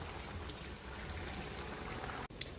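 Cooked mung bean stew (ginisang munggo) is poured from one cooking pot into another, giving a soft continuous liquid pour that ends in a brief clatter.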